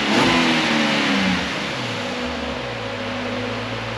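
A Nissan 370Z with an aftermarket street exhaust revs up and then settles back, a fairly quiet, smooth engine note close to the tailpipe.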